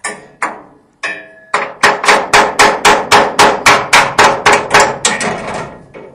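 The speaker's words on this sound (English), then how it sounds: "Take these off by hammering this out" Repeated sharp metallic hammer blows driving out leaf spring bolts on a 1947 to 1954 vehicle's rear suspension, a few scattered strikes then a steady run of about a dozen evenly spaced hits, loud and close.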